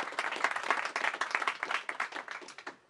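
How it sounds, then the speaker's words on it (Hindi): Steady applause from an audience, many hands clapping densely and continuously, tapering off toward the end. "अपने लिए जोर से तालियां बजा लें प्लीज और हर बंदा बजा ले"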